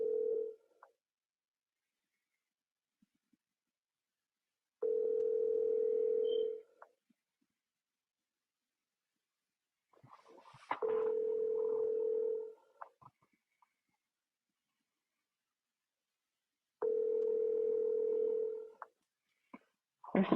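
A telephone call being placed gives a steady tone in four long, evenly spaced bursts, each about two seconds long, separated by silence.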